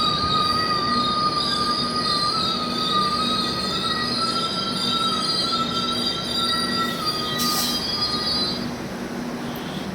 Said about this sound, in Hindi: धीरे धीरे हमारी जो ट्रेन है स्टेशन पर रुकेगी।